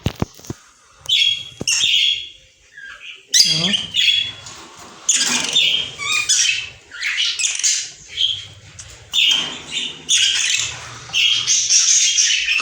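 Pet budgerigars squawk and chirp in loud, busy bursts throughout, close by, while someone talks over the birds.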